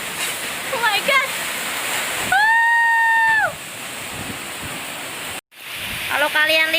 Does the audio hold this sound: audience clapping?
no